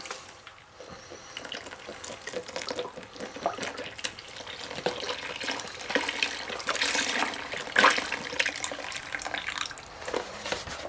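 Beef broth pours steadily into a pot while cooking quesabirria, a soft continuous liquid trickle and splash with slight surges, fairly quiet and without voices.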